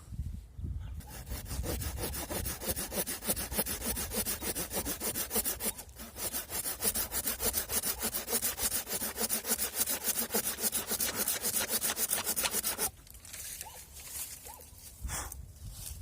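An ordinary hand saw cuts steadily through a walnut branch in fast, rhythmic back-and-forth strokes, close and loud, then stops with a few quieter handling sounds.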